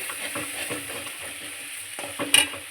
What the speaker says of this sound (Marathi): आता याला आपण मिक्स करून घेऊया